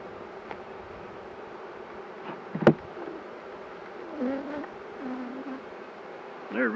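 Honey bees buzz during a spring beehive inspection, individual bees droning close by in passing whines that rise and fade, with a sharp knock near the middle from the hive being handled.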